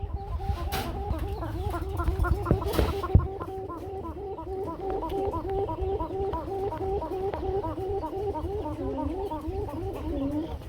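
Pigeons at a pigeon market call in a continuous run of repeated, pulsing notes. The calls sit over a busy crowd murmur, with a brief louder clatter near the start.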